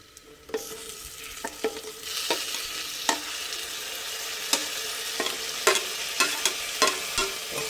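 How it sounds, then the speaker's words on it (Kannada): Tomato and coriander leaves drop into a hot pan for karmeen saaru, setting off a continuous close sizzle broken by sharp clinks and scrapes of stirring. "ಈಗ ನೋಡಿ ಟೊಮೊಟೊ ಹಾಕ್ತಾಯಿದ್ದೀನಿ"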